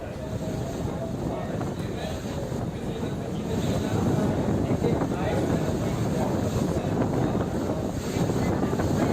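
Strong gusts of Cyclone Nisarga buffet the microphone along the Ratnagiri coast as surf churns around a boat trapped in the waves, a loud, continuous roar that swells slightly midway.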